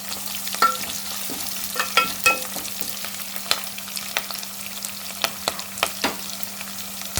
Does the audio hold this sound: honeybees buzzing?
no